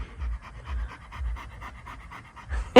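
A dog named Gunner panting on a hot summer day, rapid rhythmic breaths repeating steadily and close to the microphone, ending with a short louder burst.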